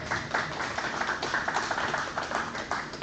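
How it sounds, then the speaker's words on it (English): Audience clapping at a blacksmith forge demonstration, a steady patter of many hands at moderate distance, continuous and even for a few seconds with no voices on top. "Now you can clap."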